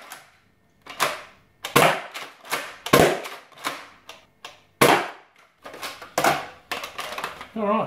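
A Nerf Retaliator blaster fires darts in a quick series of about a dozen sharp, close pops, irregularly spaced, each with a short mechanical clack of the pump.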